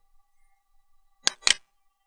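A computer mouse clicks twice in quick succession on a web page link, crisp and close, with near silence around it.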